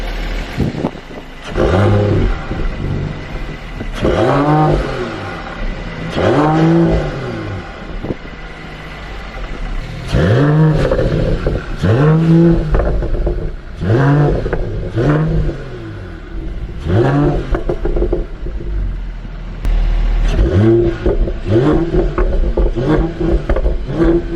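A Mercedes-AMG GT53 four-door coupe engine revs hard in repeated rising and falling bursts, loud and close, with a deep throaty exhaust note between pulls.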